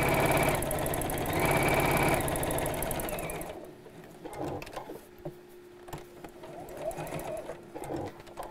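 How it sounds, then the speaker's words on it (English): A sewing machine runs fast and loud for about three and a half seconds while stitching around the outside of a rope-handle bag, then stops and gives way to quieter fabric handling and soft knocks. "I'm sewing just around the outside of the box."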